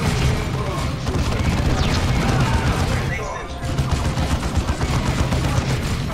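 Loud, dense battle noise from the Dawn of War video game with the Ultimate Exterminatus mod: a frag grenade explosion and continuous gunfire crackle throughout, briefly dipping near the middle before resuming.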